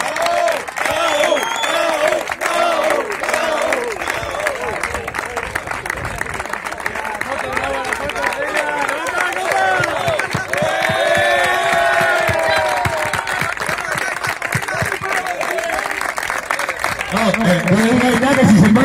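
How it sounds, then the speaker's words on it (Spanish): A crowd claps and cheers at a 2019 legends football match, a dense, steady wash of applause and shouting that runs throughout, with voices mixed in and calling out above it. "Un aplauso muy grande a Raúl."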